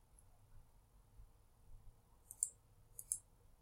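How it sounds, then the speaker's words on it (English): Faint computer mouse clicks in a quiet room, a few short sharp clicks near the end, two in quick succession. "I can either duplicate it by right clicking and doing"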